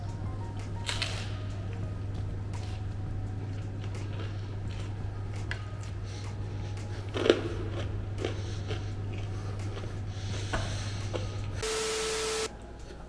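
Sourdough bread topped with butter and jam being bitten and chewed, soft close crunches and chewing over a steady background hum, with one sharper bite standing out.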